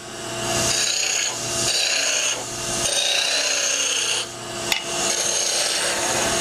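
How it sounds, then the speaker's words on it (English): A spindle roughing gouge cuts a wooden spindle turning on a lathe, making loud, close scraping and shaving strokes in repeated passes, with the lathe's steady hum underneath. "Then I can use my spindle roughing gouge. Get my tapers down real close."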